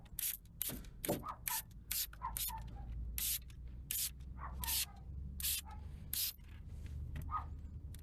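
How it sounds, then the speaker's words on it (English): A detailing product is sprayed onto a car part in a string of short, sharp hissing bursts close by, roughly a dozen quick pumps spread unevenly, with faint rubbing and handling noises between them. "On this one, it definitely gets sprayed and left."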